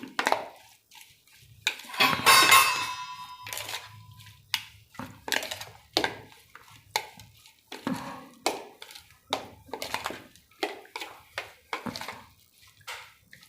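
A spoon stirs spiced pepper potatoes dressed with chutney and peanut oil in a metal pot, making a run of irregular moist squelches and sharp clinks, busier at first and then settling into a steady rhythm.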